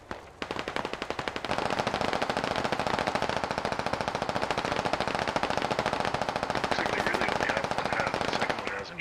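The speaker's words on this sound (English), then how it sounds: "I'm shooting an HMG right over my head." Sustained automatic fire from a heavy machine gun in the Squad video game: a dense, rapid stream of loud shots lasting several seconds with barely any break.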